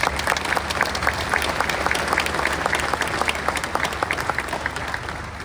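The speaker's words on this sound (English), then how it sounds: "Let's give them a big round of applause." A stadium crowd applauds the Griffin family and friends at Ohio Stadium during Archie Griffin's statue honoring, a dense, even wash of clapping heard from a distance that holds steady throughout.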